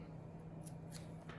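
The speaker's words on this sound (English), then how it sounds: "And then snip it off" Scissors snip through craft material in a few quick, close cuts over a low steady hum in a quiet room.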